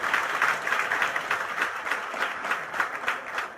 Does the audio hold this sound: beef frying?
no